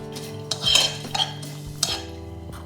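A metal utensil stirring and scraping pine nuts in olive oil in a pan over medium heat, with clinks and brief scrapes over a low steady hum.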